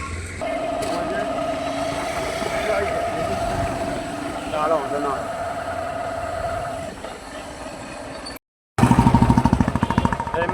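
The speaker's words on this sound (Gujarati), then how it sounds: "આ છે આપણું બાઇક" A motorcycle engine runs near and loud, its rapid throbbing pulse rising sharply at the end, while people talk over a steady background hum.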